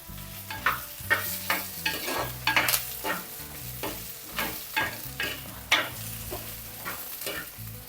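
Curry leaves dropped into a pan of frying onion, drumstick and potato for a prawn theeyal, giving a sizzle with rhythmic stirring scrapes and knocks and music beneath.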